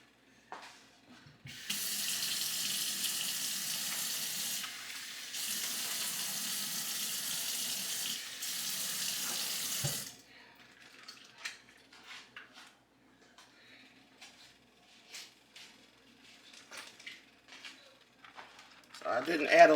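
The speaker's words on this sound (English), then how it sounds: "I'm going to put just a little bit of water in here, y'all, just to get the rest of this corn out of here." A kitchen tap runs water into a plastic bag to rinse out leftover corn, a steady gushing stream for several seconds with a brief break, then stops, followed by quieter rustling and handling noises while a person talks.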